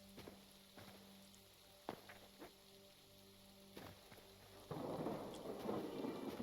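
A thunderstorm in the video game Hytale, with several sharp thunder cracks rolling over a steady hum and then a sudden surge of heavy rain near the end, with no talk.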